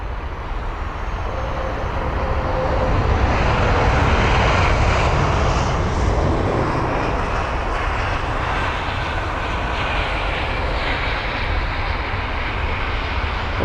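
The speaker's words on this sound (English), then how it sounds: "that is the British Airways A319 that had just arrived" A British Airways Airbus A319 inbound from Aberdeen at London Heathrow gives a steady, loud, broadband jet roar that swells slightly midway and holds for the whole stretch, with no voices.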